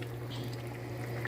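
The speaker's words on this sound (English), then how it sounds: "So the chicken feet is cooking now." Okra and chicken feet cook in a pot with no added water, giving a steady low simmering bubble and hiss, close and continuous, with no talk.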